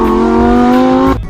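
Lamborghini Huracan STO road-legal race car engine, a loud close steady engine drone that cuts off abruptly at the end.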